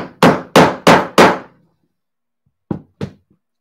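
Rivet being hammered into two pieces of leather with a setting tool: four loud, evenly spaced hammer blows close up, a pause, then two lighter taps.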